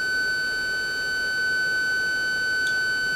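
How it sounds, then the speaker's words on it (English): Steady high electronic warning tones from a radar lock alert in a JF-17 cockpit in the DCS flight simulator, two continuous pitched tones holding over a low cockpit hum, with a brief extra chirp near the end. "there goes the beep boop beep boop"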